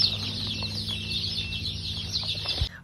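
Chicks at a hatchery being packed and counted as they come straight off the machine, giving a dense, steady high-pitched cheeping chorus over low machine hum, continuous throughout.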